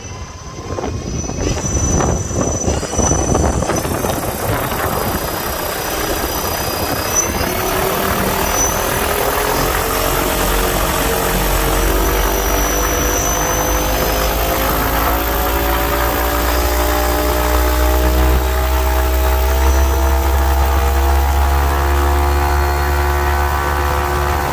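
A mini electric airboat propeller runs at full thrust with a loud, continuous whirring roar. Its tone rises and holds steady, sustained close up for the whole stretch.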